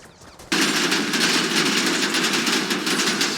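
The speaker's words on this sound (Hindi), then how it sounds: "ओ भाई, फायरिंग कौन करने लगा?" Rapid automatic gunfire in the video game GTA 5 erupts suddenly after a quiet moment, then continues as a dense, loud, sustained rattle of shots.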